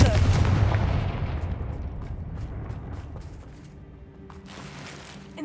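A Confringo fire spell bursts in the video game Hogwarts Legacy, a loud booming blast at the start that rumbles and fades away over several seconds, with faint crackles afterward.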